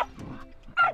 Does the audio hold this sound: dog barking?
yes